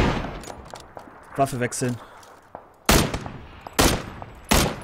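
Loud, sharp gunshots from PUBG gameplay, a few spaced single cracks ringing out in the second half, following quieter chatter and clicks, with someone speaking briefly.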